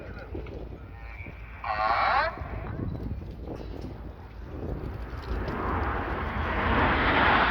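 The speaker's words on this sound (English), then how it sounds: "The aircraft flying past in line astern." Red Arrows display jets pass overhead in line astern at an air show, a broad roaring rush that swells steadily louder toward the end, with outdoor background noise throughout.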